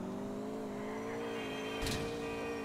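A turbocharged pickup truck in GTA IV holds a steady, loud engine drone throughout, with a brief sharp burst near the end like an exhaust pop during a gear change.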